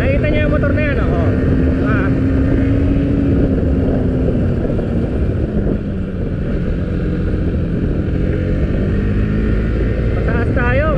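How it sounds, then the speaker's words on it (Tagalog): A motorcycle engine drones loudly and steadily while riding uphill, with a continuous low rumble and a shifting pitch; someone talks over the engine noise. "Nakikita niyo yung motor na yan"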